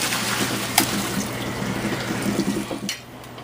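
Boiled cauliflower being drained, with a steady stream of water pouring and splashing in a sink for a few seconds, close and fairly loud, without any talk.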